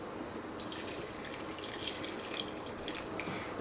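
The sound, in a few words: water being added to papaya curry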